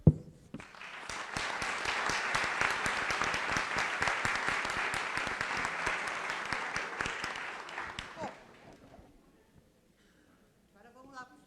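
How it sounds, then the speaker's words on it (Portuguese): Audience applause at a 2018 law-week lecture swells quickly and holds steady for about seven seconds, then fades out into near silence, with faint talk and a few scattered sounds near the end. "E eu quero deixar aqui uma salva de palmas para vocês."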